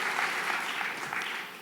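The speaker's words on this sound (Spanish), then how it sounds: "Dale fuerte ese aplauso al Señor." A church congregation claps together in a brief, dense burst of applause that fades slightly toward the end, with no voices over it.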